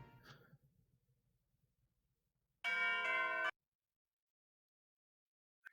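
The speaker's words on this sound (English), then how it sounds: "That was a really quick bell sound effect." A quick, bright bell chime from the Mana Khemia: Alchemists of Al-Revis video game sounds once, loud and clean for under a second, after a quiet stretch.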